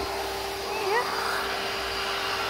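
A Numatic George multi-use vacuum hums steadily nearby on artificial grass at a rabbit run. The whir is continuous and moderately loud, with faint brief squeaks over it.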